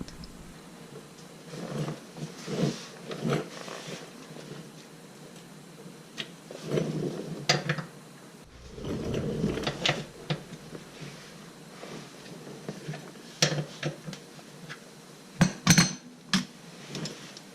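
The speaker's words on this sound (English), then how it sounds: "So the first thing I'm going to do, obviously, is remove this mount." Wrench work removing a 19 mm mount bolt on a 2003 Mini Cooper during an AC compressor replacement: close metallic clinks, taps and ratcheting scrapes come in scattered bursts over a low, steady background hum.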